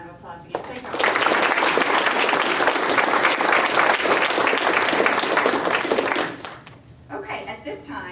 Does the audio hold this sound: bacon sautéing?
no